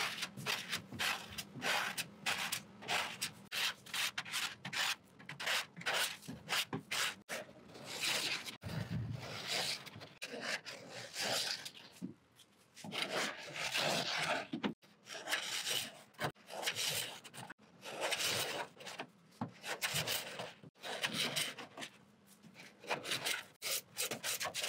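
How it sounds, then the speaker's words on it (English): Thick paint being scraped off a car body by hand: rapid, rhythmic rasping strokes up close, with a few short pauses between runs. "So I'm just gonna scrape away."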